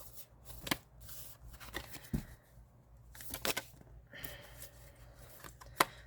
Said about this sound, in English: I go and I shuffle until one comes flying out.